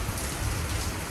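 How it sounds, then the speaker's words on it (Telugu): Heavy rain that has suddenly begun pouring, a dense, even hiss of falling water throughout, fairly soft and steady with no voices. "పెద్ద వర్షం ఉన్నట్టుండి స్టార్ట్ అయిపోతుందండి ఈ రెయిన్."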